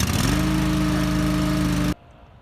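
A golf greens reel mower engine catches and runs with a loud, steady, close droning hum, then cuts off abruptly after about two seconds, leaving only a quiet background.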